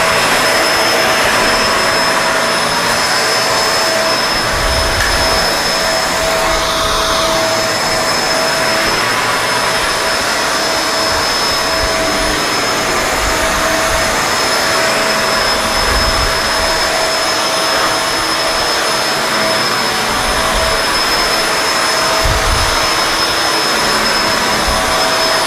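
A Kenmore Lift Up upright vacuum cleaner runs continuously with a loud, steady airy roar and a constant high whine, with occasional low thumps as it is pushed across the floor.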